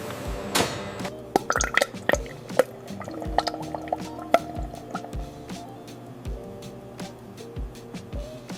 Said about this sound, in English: Sensors monitor the filling instantly to ensure every bottle contains exactly the same weight of product.